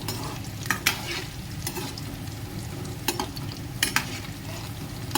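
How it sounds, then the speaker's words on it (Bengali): Chicken pieces sizzle steadily in a hot wok while a utensil stirs them, with several sharp scraping clinks against the pan over the continuous frying hiss, close and fairly loud. "কড়াইতে যেগুলো দিয়েছি এগুলো একটুখানি নাড়িয়ে দেবো।"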